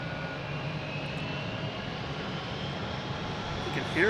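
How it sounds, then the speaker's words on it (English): A JetBlue A321 jet taking off at Boston Logan Airport, bound for San Francisco, heard as a strong, continuous engine roar that swells slightly at the end. "here's a JetBlue taking off, heading to San Francisco on A321."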